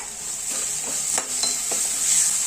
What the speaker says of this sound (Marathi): कांदा आणि वाटाणे छान परतल्यानंतर आपण इथे घ्यायचं आहे टमॅटो एक टाकून घ्यायचा आहे